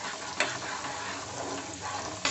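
Egg curry masala frying in a pan, a steady close sizzle and crackle with a couple of sharper bursts as it is stirred.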